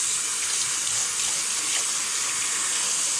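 Nitrogen flushes out a clogged AC condensate drain line, sending water rushing in a loud, continuous gushing hiss that holds steady and close from start to finish, with no talk over it.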